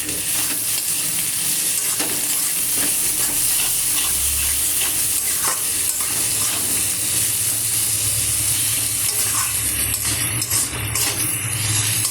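Tomato pieces and salt frying in a spice masala in a pan, a steady close sizzle and hiss running throughout with occasional stirring scrapes.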